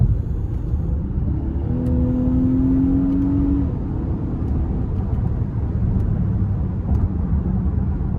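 2023 Infiniti QX60 with a naturally aspirated 3.5 V6 accelerating in sport mode, a steady low cabin rumble with a rising engine whine as revs climb, then easing off, no talking.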